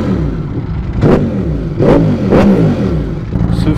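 A Ducati V4S motorcycle with a 215 hp engine revs hard in several loud, close bursts, each sharp rise dropping back to a rough, throbbing idle.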